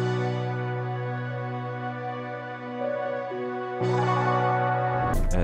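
Dark music sample built from sustained strings and piano chords with brass layered in, plus an arpeggiated synth line, playing steadily and cleanly before fuller, brighter layers enter near the end.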